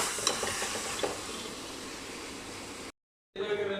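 Mangoes simmering in a pot to soften for a sugar syrup for murabba, giving a steady broadband hiss and sizzle with faint stirring clinks, then a brief silence before the cooking noise returns.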